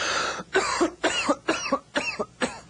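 A series of harsh, raspy coughs, about seven in a row, loud and close with brief gaps between them.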